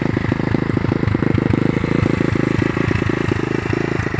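A YCF R-Start 125 dirt bike with a freshly tuned carburetor idles steadily nearby, its single-cylinder engine producing a loud, even, rapid putter with a constant mechanical clatter.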